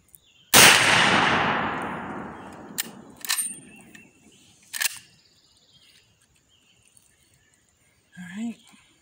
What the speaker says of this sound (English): I'm going to shoot at the top right.